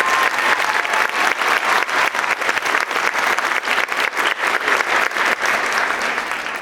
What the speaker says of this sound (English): can we get a really big round of applause for Sebastian Adams?